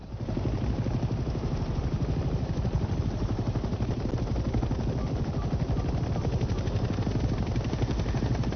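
A helicopter in flight in Hell Let Loose Vietnam keeps up a steady, loud rotor chop over a dense engine drone. It holds an even beat from start to finish, with no voices.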